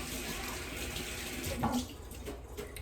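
Food being rinsed under a running kitchen tap while tacos are prepared: a steady broadband rush of water continues throughout, with a brief splashing change midway as the food passes under the stream.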